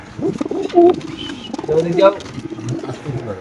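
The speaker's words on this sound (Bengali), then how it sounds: "একটা গিরিবাস জ্যাট কবুতর মাসাল্লাহ খুব সুন্দর" A Giribaz pigeon cooing at a pigeon market stall, short throaty coos up close mixed with other birds and crowd chatter, voices talking over it.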